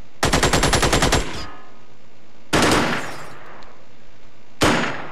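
Soldiers fire weapons in the video game Xenonauts: a loud, rapid machine-gun burst of about a dozen shots, then two more sharp single blasts, each fading quickly into a low background hum.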